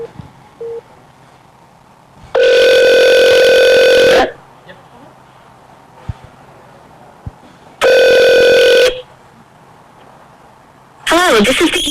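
A telephone rings twice with a loud, steady electronic tone, each ring lasting a second or two with a quiet gap between them. A voice starts speaking just after the second ring.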